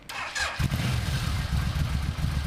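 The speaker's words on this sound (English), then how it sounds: "you kind of like blip the throttle just a little bit when you start it" A Yamaha V Max motorcycle engine cranks briefly and then catches, settling into a loud, close, rumbling idle with a slightly uneven low throb and the throttle blipped a little on start-up.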